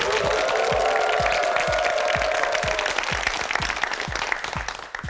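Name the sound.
studio audience applause on a Korean quiz show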